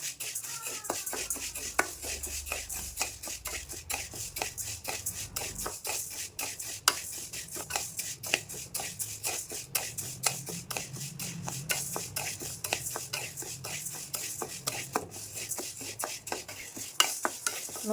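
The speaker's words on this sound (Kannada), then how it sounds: "ಉದ್ದಿನಬೇಳೆನೂ ಕೂಡ ಸ್ವಲ್ಪ ಕಲರ್ ಚೇಂಜ್ ಆಗೋವರೆಗೂ ಫ್ರೈ ಮಾಡ್ಕೋಬೇಕು." Urad dal fries in a pan to a continuous light sizzle, with rapid rhythmic scraping and stirring clicks from a spatula throughout, close and fairly soft.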